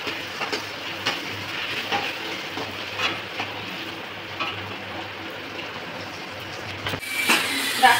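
Fish roe and bitter gourd frying in a pan, a steady sizzle with faint scraping as the mixture is stirred, continuous and close, ending with a louder clatter.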